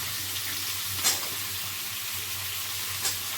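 Eggplant frying in a pan alongside already-browned potato and pointed gourd for a summer meal: a steady soft sizzle with faint stirring, two brief clinks of a utensil against the pan.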